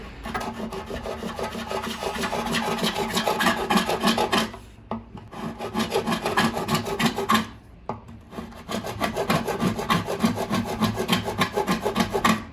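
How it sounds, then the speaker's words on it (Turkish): A hand saw cuts a wooden bağlama soundboard in steady, rasping back-and-forth strokes, close and loud, broken by two short pauses before the sawing resumes. "El testeresiyle keseceğimizden buradaki kalınlığı aldım ki kesim rahat olsun diye"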